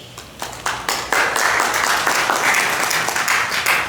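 Audience members at a Greek Canadian archive event clap. The applause starts sparse and builds into steady, full clapping from a seated crowd, close and fairly loud, with no talking.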